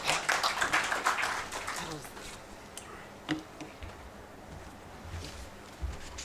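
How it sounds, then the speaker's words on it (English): Applause for a presenter at a regional policy forum on financial inclusion. Dense, rhythmic clapping fills the first two seconds, then thins to scattered claps under a murmur of voices. "Let's give another round of applause for her."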